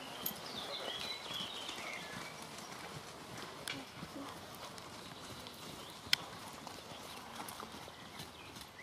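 Hooves clip-clop steadily across a riding arena as a horse is ridden around a circle, the footfalls even and moderately close over faint background noise.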